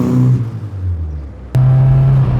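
A Ford Escort Mk2 1600 Sport engine accelerating from inside the car, a loud, close, rough rumble that dips briefly before a sharp gear change and surges again into a strong steady drone.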